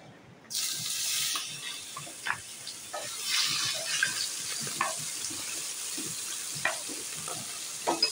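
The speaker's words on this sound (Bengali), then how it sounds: "চিংড়ি মাছগুলো এবার হালকা করে ভেজে নেব" Prawns frying lightly in a pan give a steady, close sizzle that starts after a brief quiet moment and runs throughout, dotted with occasional stirring clicks. No one speaks.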